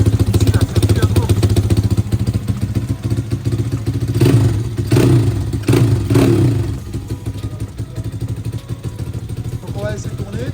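Apollo RFZ motorcycle, its leaky original engine running and warming after a service, a steady mid-pitched motor hum with a few revs near the middle, under nearby talk throughout.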